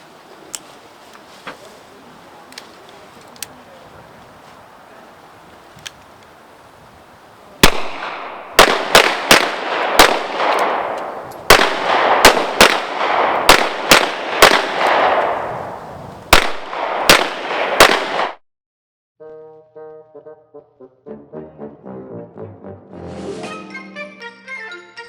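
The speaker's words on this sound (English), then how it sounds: "Commence firing." Gunshots crack along a shooting range firing line: a dozen or so loud, sharp reports at irregular intervals over several seconds, with faint shots earlier before the firing starts, and music taking over afterward.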